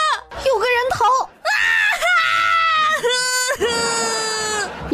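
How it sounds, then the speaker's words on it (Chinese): A loud, piercing scream of terror from a character in a Chinese audio drama, several sustained shrieking wails in a row with brief breaks between them, close and dominating. "苏青忽然一声惨叫"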